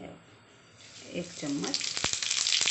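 Cumin seeds dropped into hot oil for Maharashtrian thin poha chivda, a faint hiss rising into a steady crackling sizzle, with someone speaking over the start.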